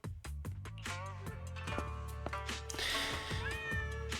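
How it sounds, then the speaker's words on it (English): Orange cat meowing repeatedly in the Zenless Zone Zero video game, several clear, close meows over steady game music. "Yishuan takes the mischievous orange cat to the inner courtyard."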